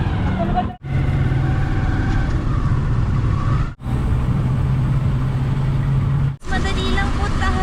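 Motor tricycle ride in Santa Rosa, Laguna, Philippines: a loud steady engine and road rumble, cut by a few abrupt breaks where the sound drops out, with some talk mixed in.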